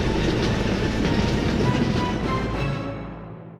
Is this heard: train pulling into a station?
yes